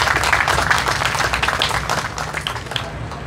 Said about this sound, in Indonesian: Saya berharap kita tepuk tangan untuk kerelaan hati.